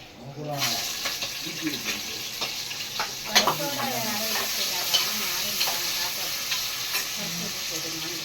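Onions frying in a mix of ghee and oil for a vegetable biryani give off a steady, close sizzle, broken by stirring scrapes and a few sharper clatters of the utensil.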